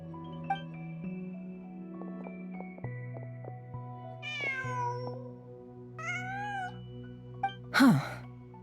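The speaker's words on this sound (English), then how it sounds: "Just a cat." A cat meows in the video game Genshin Impact, with several drawn-out, wavering meows rising above quiet tonal game music, then a short sharp cry near the end.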